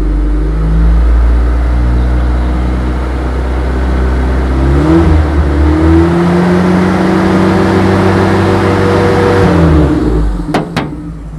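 A Toyota Feroza engine runs loud and close at the exhaust, idling with a deep steady drone before revving up and settling back down, followed by a few sharp clicks near the end.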